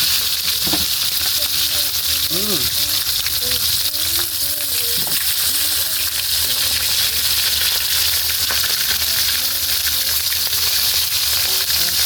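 Fish frying in a pan, a steady loud sizzle running throughout as the fish is flipped, with brief faint voice sounds over the hiss.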